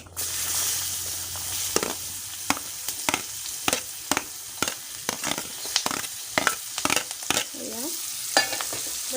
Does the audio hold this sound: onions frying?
yes